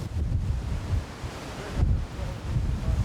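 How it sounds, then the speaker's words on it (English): Strong wind of almost 100 km/h roars across a mountain weather station in the Cévennes in freezing winter, buffeting the microphone with steady, loud, gusting rumble and no voices. "Today is very windy, almost 100 kilometers per hour"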